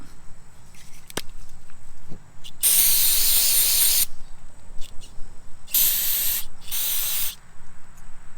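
Carb cleaner sprays from an aerosol can onto old engine parts from a 50-year-old Gravely 816 garden tractor with an Onan twin, coming in three sharp hissing bursts, the first longest, with small clicks and handling noises between them.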